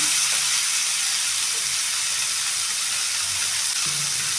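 Cut tomatoes fry in oil for a chutney, giving a continuous, bright, close sizzle with a steady hiss throughout and only faint low rumbles beneath.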